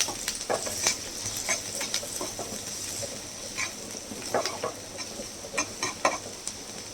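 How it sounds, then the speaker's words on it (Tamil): Onions sautéing in a pan for egg thokku, a steady broadband sizzle with intermittent stirring scrapes and clicks of a utensil throughout, fairly close and alone with no voices. "வெங்காயம் நல்லா வதங்கட்டும்."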